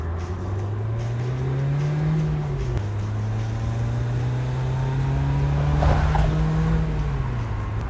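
A 1996 BMW Z3 roadster's engine pulls hard through the gears, rising in pitch, dropping briefly at a shift, then climbing again, loud and close with no talking.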